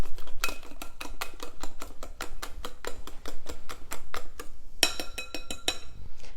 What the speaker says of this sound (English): One teaspoon of vanilla. And whisk that around.